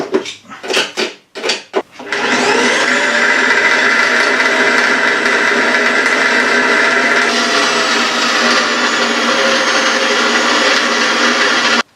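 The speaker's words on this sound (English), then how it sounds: "Gonna be drilling this." A power drill bores into a metal wiper bracket during a Daihatsu Charade restoration, a few short bursts and then a loud, steady whine that runs without a break to the end.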